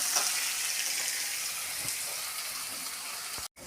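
Curry leaves and garlic frying in oil in a pan, a steady close hiss of sizzling that runs throughout and briefly cuts out near the end, with no talk.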